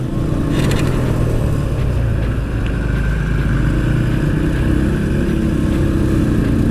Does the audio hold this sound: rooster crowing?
no